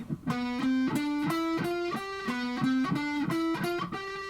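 Electric guitar picking rapid, even eighth-note triplets over a steady metronome click, three notes per click, each group of three landing on the beat, close and clear.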